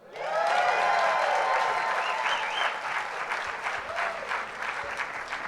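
An audience at the 2021 Innovation in Education Awards ceremony in San Diego breaks into sustained applause, a dense wash of clapping that swells quickly and holds for several seconds before easing slightly.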